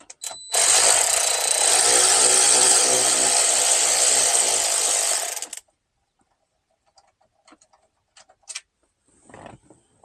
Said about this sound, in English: we're going to grab our 7mm. Go ahead and take these 3 screws out.